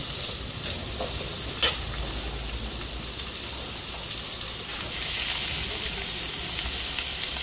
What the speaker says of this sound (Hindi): अब हम कटी हुई सब्जियाँ डाल देंगे। और हमने पलटे से इनको हिलाना है।